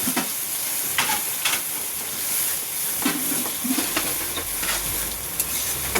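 Curry in a pan sizzles and hisses steadily after a little water is added, a constant close frying noise broken by occasional stirring scrapes, with no talking.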